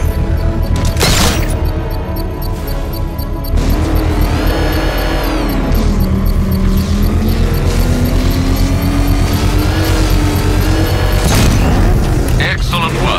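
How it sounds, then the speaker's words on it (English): A controlled bomb explosion set off with a power winch in Batman: Arkham Knight, with loud booming blasts near the start and again near the end over a dense, continuous rumble of game engine and mechanical noise. "I can use the power winch to trigger a controlled explosion."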